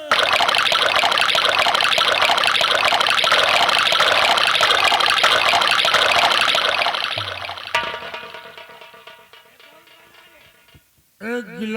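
A drink is poured into a glass at a rowdy Bhojpuri nautanki stage performance, a steady liquid trickle running for several seconds under loud, overlapping voices before fading out.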